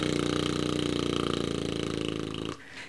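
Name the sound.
voice exercise imitating a small motor with the lips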